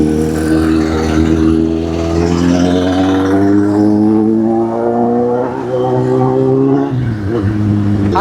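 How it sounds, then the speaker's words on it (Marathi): A vehicle being driven fast, its engine droning steadily and loud up close, pitch climbing gradually as it accelerates, with a brief dip near the end before resuming. "हर्ष फुल गाडी पळवायला लागलाय खपाखप"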